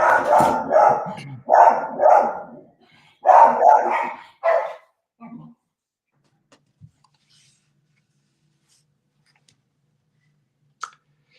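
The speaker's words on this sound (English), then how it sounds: "And of course, Daisy's barking." A dog barks in several quick bursts of two or three close, loud barks over the first five seconds, then falls quiet apart from a few faint knocks and one short click near the end.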